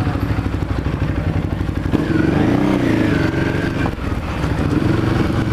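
Motorcycle riding through city streets, the engine droning steadily and close with a rev swell and some clatter and thumps from the road, no talk.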